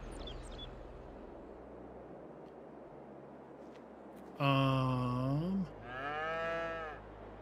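Cows of several breeds on a farm in Farming Simulator 22 give a long, loud moo and then a second, slightly softer one over a steady low hum of game ambience.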